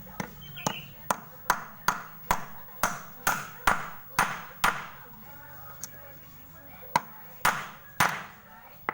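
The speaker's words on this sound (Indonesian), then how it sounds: "Pegang ya, kita akan pukul ya." Steady hammer blows on the water pump seal of a Honda Vario 150 scooter, sharp metallic taps roughly every half second, close and fairly quiet, with faint speech between them.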